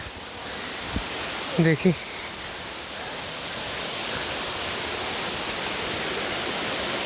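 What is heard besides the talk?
Katiki waterfall water falling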